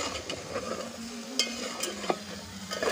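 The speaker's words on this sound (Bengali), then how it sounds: "নেড়ে একটু কষে নেব।" Fried vegetables being stirred in a pan for khichdi, with soft scraping spatula strokes and occasional clinks over a gentle sizzle, close and fairly quiet, no talk.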